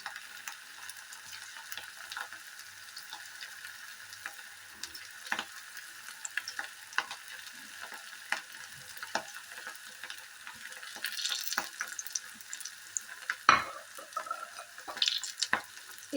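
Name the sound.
potato roll samosas frying on low heat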